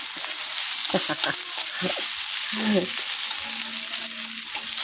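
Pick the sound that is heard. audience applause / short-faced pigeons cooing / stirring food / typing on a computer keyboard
stirring food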